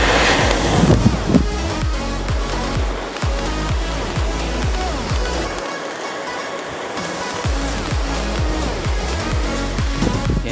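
A Sivakasi waterfall pencil firecracker burns with a loud, continuous fizzing hiss and crackle that fills about ten seconds, close by outdoors, with repeated low thumps underneath and no talking.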